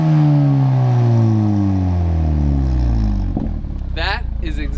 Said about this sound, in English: But when you give it a couple revs